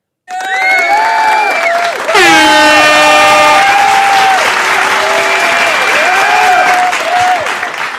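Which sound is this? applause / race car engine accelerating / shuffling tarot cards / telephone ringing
applause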